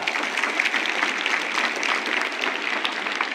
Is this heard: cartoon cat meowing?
no